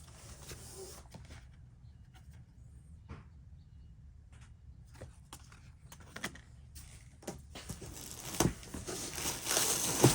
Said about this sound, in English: It's got this packaging here